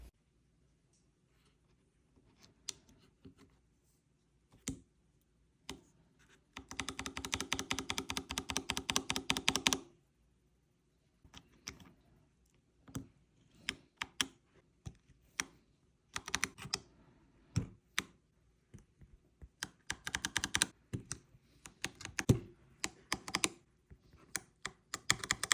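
Typing on a freshly built Libra Mini 40 mechanical keyboard: crisp, close keystroke clacks in scattered bursts and a fast continuous run, separated by quiet pauses.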